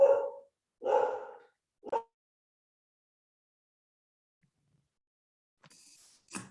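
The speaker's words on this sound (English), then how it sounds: "Oh, she's barking at a dog across the street." A dog barks at another dog across the street, three sharp, fairly close barks in quick succession, then silence before a faint rustle at the end.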